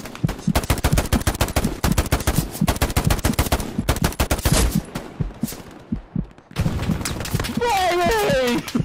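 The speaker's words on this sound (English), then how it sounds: "you're fucking getting shot at from every fucking direction right now" Dense, rapid gunfire from the World War II shooter Hell Let Loose, loud and close with machine-gun bursts and overlapping shots, easing briefly before resuming, while a voice speaks over the end.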